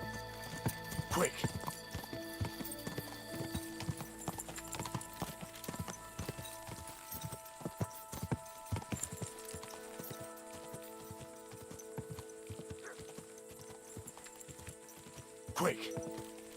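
Horse hooves clip-clopping in the video game Kingdom Come: Deliverance 2, a faint irregular patter of steps under sustained tonal music and ambience, with a brief louder thump near the end.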